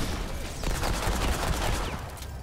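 Pipe pistol gunfire in the video game Remnant 2, a steady run of loud, close shots and impacts that fills the whole stretch, with a faint voice underneath.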